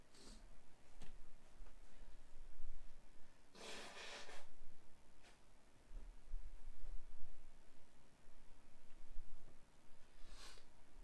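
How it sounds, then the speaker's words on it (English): A loud, brief nasal blast of someone blowing their nose into a tissue, with a second shorter blow near the end, over faint room noise. "I'm going to blow my nose."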